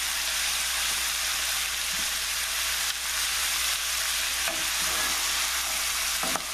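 Risotto with vegetables stirred in a pan, a constant bright sizzling hiss with soft scraping strokes of the spoon now and then, close and steady throughout.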